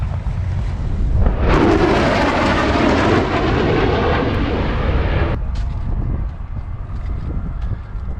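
A US Navy F/A-18 Super Hornet coming in to land at the 2024 Stuart Air Show makes a loud, close jet roar that swells, holds for a few seconds, then cuts back to a lower rumble.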